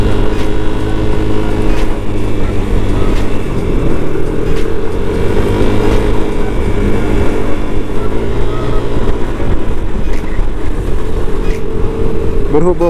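A loud, close Yamaha NMAX motor scooter engine with tuned CVT, stock exhaust and stock ECU runs throughout, droning and rising slightly in pitch as it revs, with no pauses.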